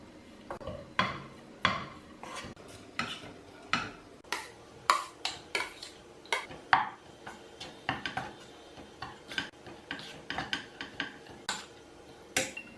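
Tomato egg rice stirred in a pan: a spoon knocks and scrapes against the metal in quick irregular taps, close and fairly quiet, with no talking.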